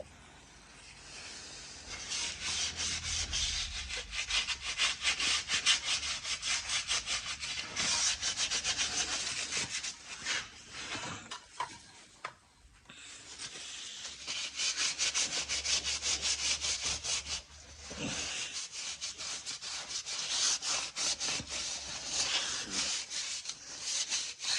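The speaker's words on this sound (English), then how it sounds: "so I thought we'll give them a bit of a clean because they're looking a bit dirty" Fox shock absorbers are scrubbed clean by hand, giving a long, steady, close rasping rub in repeated strokes with a short pause near the middle before the scrubbing resumes.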